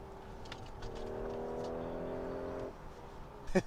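Engine of a 2019 Audi A5 Cabriolet Premium Plus revving out with a steady rising tone heard from inside the car, then dropping off as the upshift comes, followed by a brief clunk.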